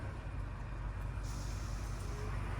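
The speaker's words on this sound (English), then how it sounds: "Our mailman's gonna do a drive off" A mail truck pulls away from a curb, its engine a faint, distant rumble with a hiss like an air brake releasing partway through.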